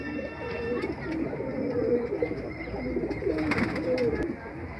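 Allahabadi pigeons kept by a fancier in a loft, their soft, continuous cooing rolling steadily throughout at moderate loudness, with faint rustling behind it.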